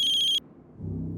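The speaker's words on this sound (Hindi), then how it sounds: "सनी के राजकोट वाले घर की लैंडलाइन से फोन है।" A telephone rings loudly with a bright electronic warble for a short burst, then cuts off, leaving low background rumble and murmur; the call comes in from the landline of a house in Rajkot.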